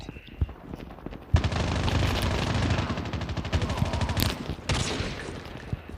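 Gunfire in the video game COD Mobile starts with a few sharp isolated shots, then breaks into a dense, loud stretch of rapid repeated shots lasting several seconds.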